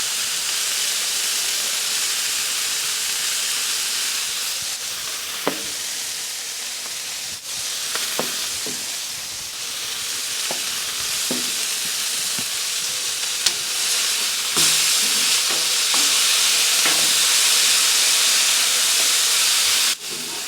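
Butter sizzles on a Blackstone griddle while burger buns toast, a steady broadband hiss lasting throughout with a few faint clicks and taps from a spatula, loud and close, with no talking.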